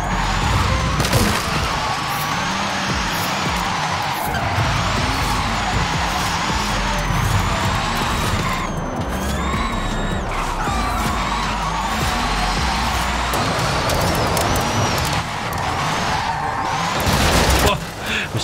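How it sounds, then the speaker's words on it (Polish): Xpeng P7 drifting through tight and smooth town corners in Forza Horizon 5, a steady loud engine drone with sliding tire noise throughout, swelling near the end, with a voice talking over it. "I tutaj są takie fajne zakręty do driftowania, żeby sobie sprawdzać furkę."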